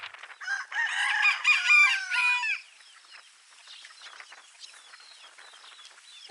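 A rooster in a healthy homestead flock crows loudly and close by, followed by fainter clucking and chatter from the chickens around it.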